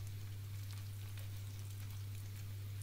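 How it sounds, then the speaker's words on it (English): Lamb pieces browning in a pan ahead of going into a casserole give a faint, even, continuous sizzle with a steady low hum underneath. "you just kind of want to brown it before we put it into the casserole dish"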